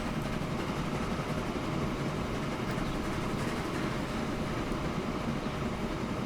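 A train rolls along the tracks in the railway simulation game Transport Fever, giving a steady, continuous rumble with no break throughout.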